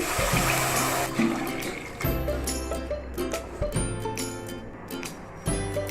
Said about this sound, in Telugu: మనం ఏ కప్తో అయితే షుగర్ వేసుకున్నామో ఆ కప్తోనే 2 కప్స్ వాటర్ వేసుకోవాలి.